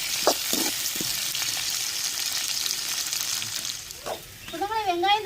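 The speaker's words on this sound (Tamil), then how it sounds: "எண்ணெயிலே கத்திரிக்காய் தக்காளி வெங்காயம்லாம் கொஞ்சம் நேரம் வதங்கி வரட்டும்." Brinjal, tomato and onion sauté in hot oil with a steady, close sizzling hiss throughout, joined near the end by a few brief wavering voice-like tones.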